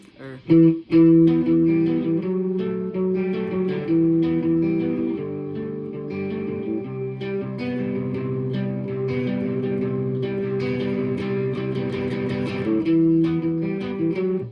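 A distorted electric guitar plays the chugging, repeating intro riff of Underoath's "When The Sun Sleeps", dense and steady, with a few sharp picked accents near the start.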